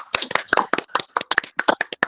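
A small round of hand clapping on a morning show, sharp close claps in a quick uneven rhythm, a few hands at most, with no talking.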